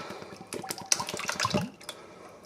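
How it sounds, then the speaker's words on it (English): Coconut milk pours and glugs into a pot for an Indonesian squid curry while the burner is still off. Uneven liquid splashes rise through the middle of the clip and then fade to quiet. "going to add my coconut milk."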